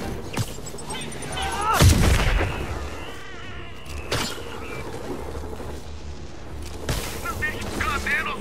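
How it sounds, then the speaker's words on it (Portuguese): A grenade goes off in the Spider-Man video game with one heavy, booming burst that stands out above a busy backdrop of game noise, with a few further thuds and people speaking over it. "Cuidado, granada!"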